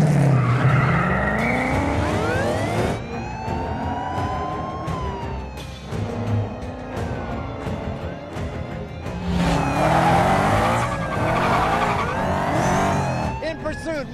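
Modified Ford Mustang pulling away in a film scene, tires skidding and squealing in long sweeping bursts over revving engine noise, loud and close, with a siren wailing and voices talking at times.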